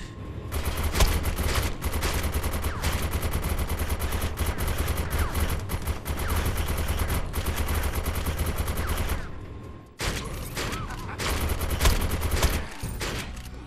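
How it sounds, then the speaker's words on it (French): Gunfire in the sci-fi shooter Defiance, a dense, loud run of rapid shots and blasts filling nearly the whole stretch, broken by a short pause before more heavy firing resumes near the end. "là on va passer au shotgun"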